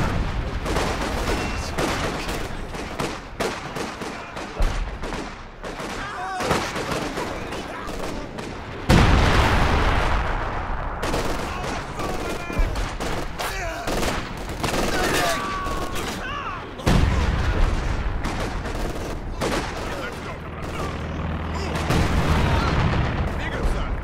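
Howitzer artillery and small-arms fire rage through a Company of Heroes 2 battle at the Stalingrad rail station, with dense bursts of shots and heavy booms over a constant roar, while voices shout over the fighting.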